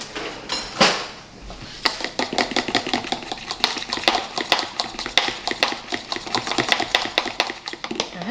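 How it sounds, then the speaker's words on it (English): A fork whisks extract in a bowl while Thai soup is being made, giving a steady run of quick, crisp clicks and taps against the bowl at close range, with no talking. "I'm just gonna grab a fork, mix this up, dump it in the soup"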